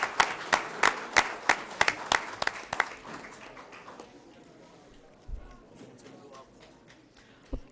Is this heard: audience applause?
yes